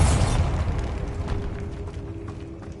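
A Bombarda blasting spell goes off in Hogwarts Legacy inside a decaying catacomb: a loud, close explosive burst with a deep rumbling low end that swells at the start and decays into a lingering, reverberant roar.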